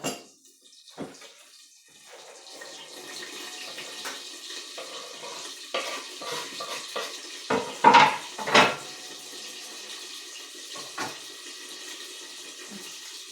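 A spoon stirs garlic into matsun yogurt in a bowl, giving soft wet scraping with a few sharper clinks against the bowl near the end. No one speaks.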